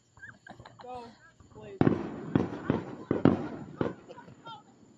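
Fireworks go off on the Fourth of July in a neighborhood: four or five loud, close bangs and crackles in quick succession, preceded and overlapped by people shouting and talking.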